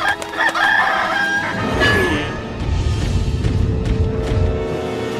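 Hen clucking and crowing, a barnyard fowl calling loudly and steadily throughout, with a cock-a-doodle-doo style cry rising above layered clucks and fluttering noise, no talk.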